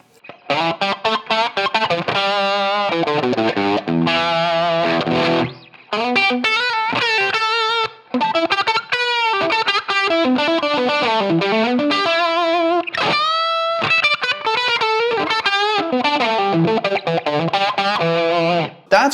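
A distorted electric guitar through a Line 6 Helix with reverb plays a long, busy lead with bends and slides, notes blurring into a washy, spacious tail, with no talking.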